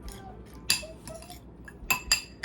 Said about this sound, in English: Let's give this a little bit of a stir.